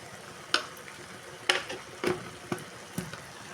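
Ridge gourd curry being stirred in a pan, a few separate scraping strokes spaced about half a second to a second apart over a soft sizzle, close and fairly quiet, with no talking.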